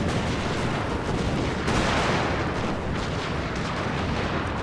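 Dense, continuous musket and artillery fire from a Total War video game battle recreating the 1864 Battle of Franklin in the American Civil War, a loud, unbroken rumbling roar of overlapping shots throughout.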